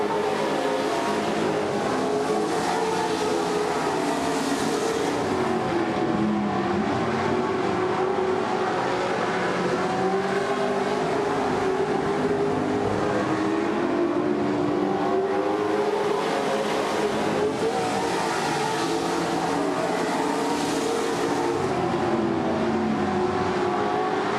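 Race cars roaring around a track late in a race with four laps left, a constant loud engine drone with swelling passes and revving as the pack circulates, no voices.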